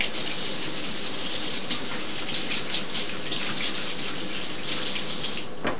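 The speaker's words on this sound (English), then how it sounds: "I'm going to rinse my hands." Kitchen tap running full while hands are rinsed after peeling garlic, a loud steady gush of water with splashing variations, ending abruptly.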